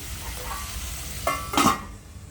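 Peas and onion cook in a pan for kande pohe with a low, steady sizzle, then a spoon scrapes and clatters briefly near the end, close and soft.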